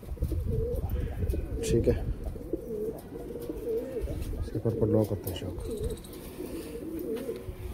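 Pigeons kept as a breeding pair coo in low, repeated rolling calls close by, while someone talks over them almost throughout.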